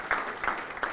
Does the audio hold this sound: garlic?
no